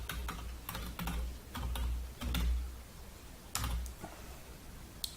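Someone types a code on a computer keyboard in short bursts of quick clicking keystrokes with brief pauses between, close and fairly quiet.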